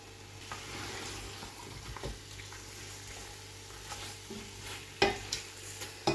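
A mutton and okra stew with fried onions cooks in a kadai, a soft steady sizzle under repeated spoon stirring, with a few louder scrapes and clinks near the end; no talking.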